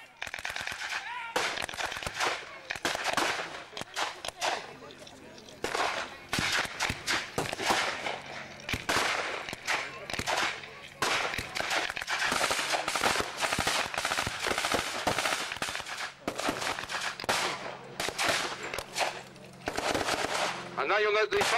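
Sustained gunfire at an outdoor WW2 battle reenactment, a Bren light machine gun firing bursts among scattered rifle shots, loud and continuous with a narrator talking throughout.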